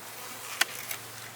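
Honey bees in an open deep hive box hum faintly and steadily, with one sharp close buzz of a passing bee and a softer one just after.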